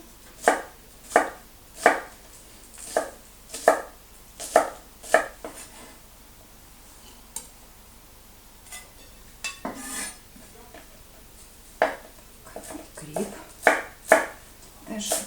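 Knife finely chopping onion for a spring nettle pie, a run of sharp, evenly spaced close chops on a board, a pause with faint clinks, then a few more quick chops.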